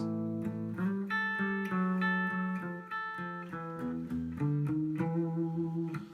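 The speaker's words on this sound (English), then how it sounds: "So turnaround sounds something like this." Electric guitar plays a short blues turnaround, descending moving notes over sustained chords, clean and moderately loud with no voices.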